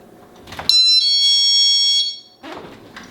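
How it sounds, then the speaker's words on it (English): A loud, piercing electronic chime tone from a stand-alone door alarm mounted on a door sounds steadily for over a second, bracketed by clicks and handling noise before and after. "So I'll go ahead and show you the 3 modes while it's on the door."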